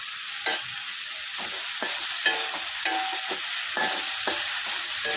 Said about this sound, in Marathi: छान असं मिक्स करून घेणार आहोत।